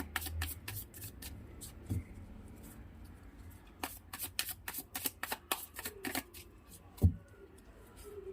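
Tarot cards being shuffled by hand in a series of crisp riffling bursts, close and fairly quiet, with short pauses between runs and no talk.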